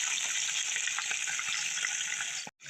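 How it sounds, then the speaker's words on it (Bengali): Small puti fish fry in hot oil in a pan with a steady, close crackling sizzle that cuts off abruptly near the end. "উল্টায় পাল্টায় সব মাছগুলো ভাজবো"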